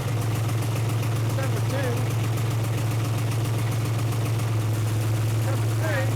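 Diesel engine idling steadily as its cylinders are shut off one at a time, a deep continuous throb with a voice counting over it.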